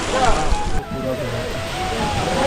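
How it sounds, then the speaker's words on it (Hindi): Natural hot spring water pours into Tapt Kund at Badrinath with a loud, continuous rushing splash close by, steady throughout with a slight dip early on. "एक तप कुंड का पानी यहाँ से आता है, गर्म पानी कुदरती है पूरा"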